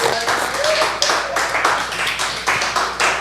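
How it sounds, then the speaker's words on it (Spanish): A church congregation claps in bursts of rhythmic, uneven applause, mixed with voices throughout. "Dale un aplauso al Señor,"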